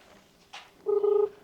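A few short electronic tones from a phone keypad, a brief beep followed by a longer steady tone, close and clear with no talking.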